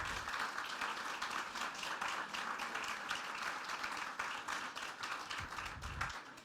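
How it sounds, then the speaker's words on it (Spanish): Dense, steady applause from a large audience at a Mariachi Vargas event in Mexico marking a fifth anniversary. The clapping fills the whole stretch at an even level and stays loud throughout. "pido un aplauso para Roxana"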